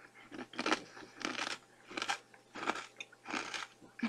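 Someone crunches and chews a banana cream pie flavored Pac-Man fortune cookie close to the mic, with about five distinct bursts of crunching at a steady rhythm and no talking.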